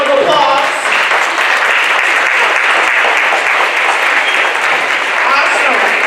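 An audience at a fatherhood awards ceremony applauds honorees, dense loud clapping that holds steady throughout.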